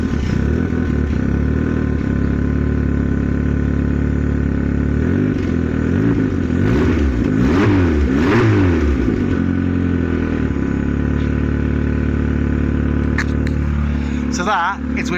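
Vauxhall Nova SR engine fitted with a race exhaust, idling loud and close with a steady rumble that swells through a few revs in the middle before settling back to idle.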